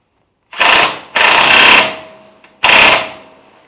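Power impact tool tightening a bolt on a trailer-mounted blower rack, three loud close bursts of rattling hammering, the first short and the next two longer, with brief quiet gaps between.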